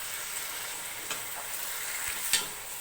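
Chicken biryani masala stirred and frying in a pan, a continuous close sizzle with occasional scrapes and clinks of the spoon against the pan, no voices.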